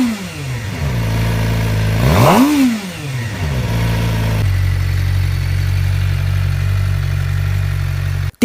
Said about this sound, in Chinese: 先大家听一下这个原厂排气声浪。